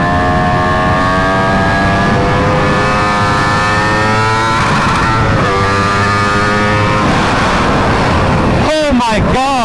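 An Aprilia RSV4 motorcycle running a Gabro MTorque map revs hard while being ridden, its loud engine climbing and dropping through the gears close by, with a brief burst of rapid revving near the end.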